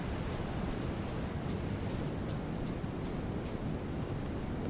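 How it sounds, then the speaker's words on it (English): Steady broadband wind blows before a storm in the game Will: Follow The Light, a constant rushing gust with faint periodic high ticks, filling the whole stretch without any talk. "Looks like it's pretty windy, like, you know, a storm is coming."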